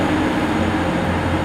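A Class 185 diesel unit departing Huddersfield station, a steady loud low engine rumble and wheel noise with a droning hum, continuous and close.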